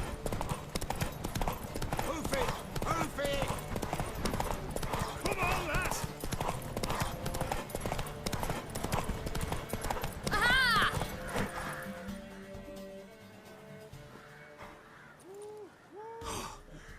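Rapid rhythmic hoofbeats of a galloping horse in The Witcher 3: Wild Hunt, under music and voices, fading out, followed by a horse snorting and whinnying, game-like.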